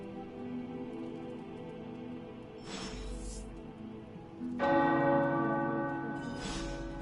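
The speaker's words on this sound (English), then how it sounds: "The tower bells are ringing." Tower bells ring in the video game Marvel Midnight Suns, a steady peal of overlapping chimes that swells louder midway and keeps ringing over a low ambient background.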